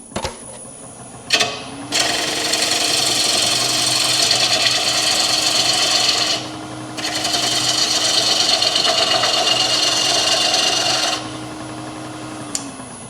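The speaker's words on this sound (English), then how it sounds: "probably just gonna do a push cut here" Bowl gouge making a push cut on a spinning wooden bowl on a lathe, a loud, steady shearing hiss held in two long passes with a short break between them.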